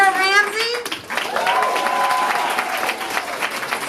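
Audience clapping at a dance recital, a crowd applauding steadily after a brief moment of voices and cheering at the start, with some voices and whoops mixed in over the clapping.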